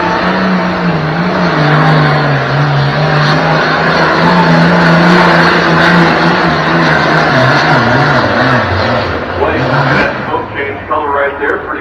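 A pulling tractor's engine roars continuously and loud at a tractor pull event in Tomah, hauling a sled with a steady droning tone that wavers near the end as it fades and a voice announces over it.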